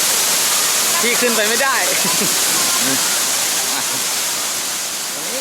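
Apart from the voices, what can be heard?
Sai Yok Noi waterfall rushing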